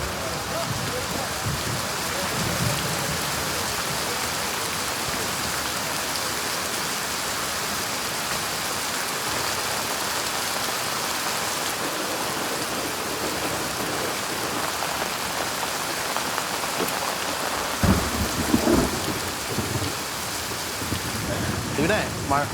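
Heavy rain pours down steadily as a dense, continuous hiss throughout, with a brief louder surge near the end.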